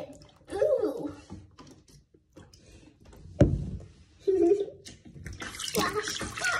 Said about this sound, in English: Splash, splash, splash.